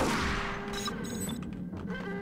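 Gunfire in the Max Payne shooter, a dense burst of shots and impacts packed over a couple of seconds, loud and close, with no talk over it.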